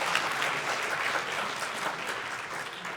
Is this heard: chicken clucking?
no